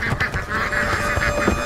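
White swans calling near an old hut in a forest setting, a steady run of nasal honking cries repeating over a continuous background, fairly loud and close, with no talk over them.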